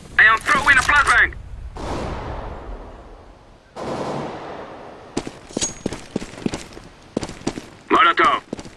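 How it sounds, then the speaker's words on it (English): A flashbang grenade bursts in Counter-Strike: Global Offensive among several sharp gunshot-like cracks and a long ringing whoosh, loud and close, with game voice callouts heard at the start and end. "I am throwing a flashbang!"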